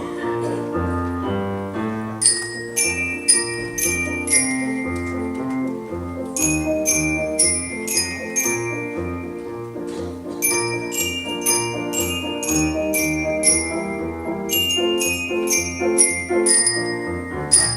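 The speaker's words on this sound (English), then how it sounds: "they're just playing mallets, just the bells" Bright mallet bells from the percussion section of a beginning school band ring out in repeated melodic runs over the full band playing underneath, the chiming phrases returning in bursts.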